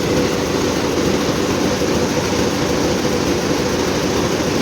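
A vehicle engine pulling away slowly while towing a newly built trailer: a steady, loud, broadband drone that holds an even level throughout, with no voices.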